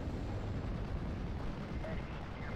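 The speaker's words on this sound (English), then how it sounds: "While here, I'm bombing the anti-air." Bombs explode in a Steel Division Normandy 44 battle as bombers strike anti-air positions, a dense rumbling roll of blasts that stays loud and sustained throughout.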